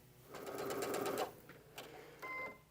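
A home sewing machine chain piecing quilt blocks, a short steady run of rapid stitching followed by two brief bursts, fairly quiet and close with no talk.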